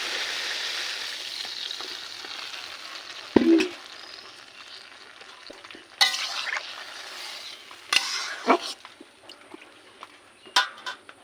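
Vegetable curry simmering and sizzling in a pan with a little added water, a soft continuous fry with occasional sharp clatters of a spoon stirring.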